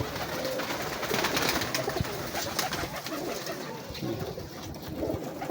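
Mixed-breed pigeons in a breeder's setup coo softly and repeatedly amid a busy rustling background, several birds close by.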